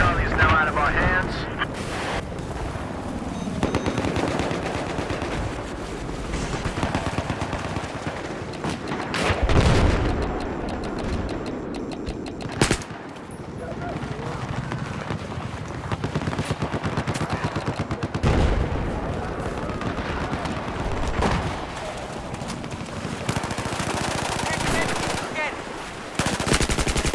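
Sustained machine gun fire and explosions in a military video game, rapid bursts and booms almost continuously, loud and close, with voices talking at times.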